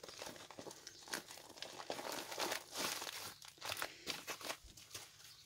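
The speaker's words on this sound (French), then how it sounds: "c'est arrivé dans une enveloppe bulle comme ça" Crinkling and tearing of a taped padded bubble envelope being opened, with irregular close crackles and rustling bursts throughout, no talk.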